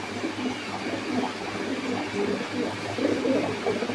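Pigeons coo repeatedly at a farm selling unique pigeon breeds, soft throaty calls layered over a constant background hum.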